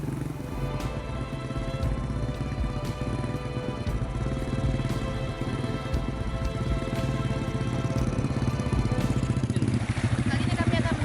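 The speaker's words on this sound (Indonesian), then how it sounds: "Setelah 15 menit motor melaju" A motorcycle rides a rural dirt road toward a remote village in Gorontalo, Indonesia, its engine droning steadily and close up with a rough, throbbing rhythm that grows slightly louder toward the end.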